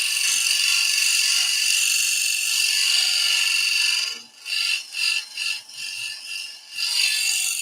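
A skew chisel cuts a wooden offset pendant on a lathe with a steady high hiss, then breaks into short intermittent scraping bursts as the tool touches on and off.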